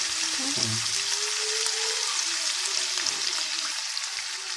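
Masala frying in a pan with a steady, dense close-up sizzle and a brief low clatter near the start, even and unbroken throughout, no one speaking.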